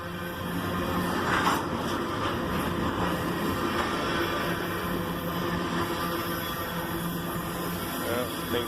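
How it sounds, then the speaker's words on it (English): Union Pacific freight train of tanker cars rolling steadily past at close range in a city rail yard, a continuous rumbling wash with faint rhythmic wheel clatter and no breaks, a voice faintly present underneath. "This is one long stretch of tanker cars."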